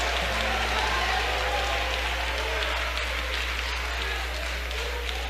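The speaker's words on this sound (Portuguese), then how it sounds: "Vamos melhorar essas palmas para Jesus." Congregation clapping during a church service, a dense continuous patter of many hands sustained for several seconds over a steady low hum, with voices faintly mixed in beneath.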